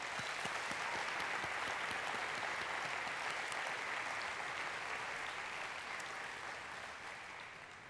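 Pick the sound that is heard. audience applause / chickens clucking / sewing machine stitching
audience applause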